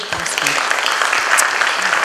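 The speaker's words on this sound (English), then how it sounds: "So big round of applause." Audience applause closing a talk on choice, GDP growth and gender: a steady, dense wash of clapping at moderate level that holds for about two seconds, with faint voices murmuring beneath it.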